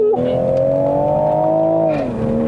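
A Toyota GR Supra A90 with a 3.0L engine pulls hard out of a corner at full throttle on a mountain road in Genting, Malaysia, its loud, close engine note holding a steady drone before dipping briefly.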